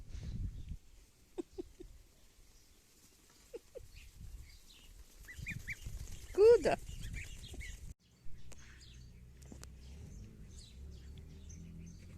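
Geese honk and cackle at a distance amid outdoor rustling, with one louder call in the middle and soft voices mixed in.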